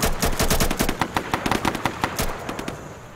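Rapid bursts of automatic gunfire in a tactical shooter game, loud and close, with a dense rattling run of shots that thins into scattered individual cracks toward the end.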